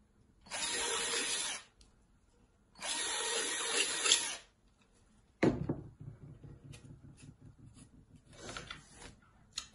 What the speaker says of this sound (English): I'm just going to go over it with a drill again